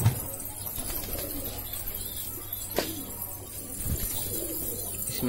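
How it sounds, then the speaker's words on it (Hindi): Show pigeons coo softly against a steady outdoor background hum, with an occasional faint flutter or knock nearby. "आ गए अपने कबूतर।"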